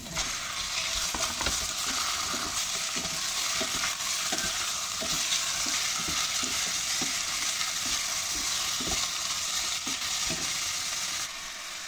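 Chicken frying and being stirred in a pan for arroz caldo, sizzling steadily with repeated scraping strokes of the utensil, close and continuous with no talking.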